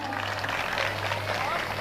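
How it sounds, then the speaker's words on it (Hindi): Steady applause from an audience at a Hindi poetry recital held for Buddha Purnima, a dense wash of clapping filling the hall without a break and with no voice rising above it. "जब तक आपकी सारे लोगों की तालियां आएंगी नहीं, मैं आगे पढ़ूंगी ही नहीं"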